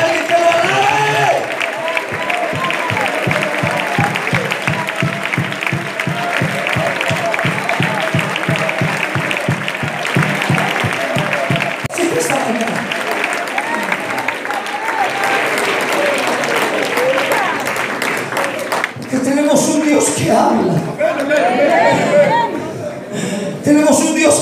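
A church congregation applauds and cheers at length, dense clapping running throughout alongside voices, with a preacher's speech rising over the crowd in places.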